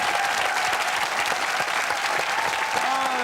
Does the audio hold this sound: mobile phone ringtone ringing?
no